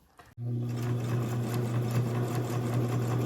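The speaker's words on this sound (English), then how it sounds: "I'm going to sew around the outside with a 1/8 inch seam" A sewing machine runs a 1/8 inch seam around a fabric basket, starting after a brief pause and then whirring in a steady, close, continuous hum.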